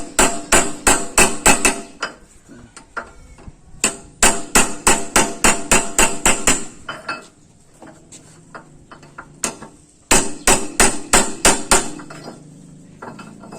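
Repeated metal hammer strikes drive a bearing into the wheel hub of a walking tractor, coming in fast bursts of about six to eight ringing blows with short pauses between them, loud and close.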